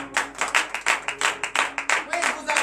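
A church congregation at a Saturday morning prayer service in Benin claps in a fast, regular rhythm, close and loud, with voices acclaiming and singing over the beat.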